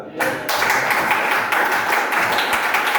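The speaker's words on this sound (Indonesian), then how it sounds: "kita kasih aplaus dulu lah" Indoor classroom audience applauding during a religious studies lesson on Hajj, a dense, steady wash of many hands clapping starting abruptly and sustained at even loudness for a few seconds.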